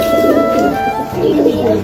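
Pigeons brought from Birbhum coo in a loft, a steady, close, throaty murmur that carries through the whole stretch with no talk over it.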